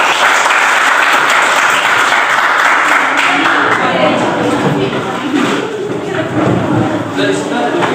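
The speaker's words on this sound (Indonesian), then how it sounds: "tepuk tangan buat kelompok 1" Applause from a group fills the room, dense and steady throughout, with some voices and shuffling mixed in toward the end.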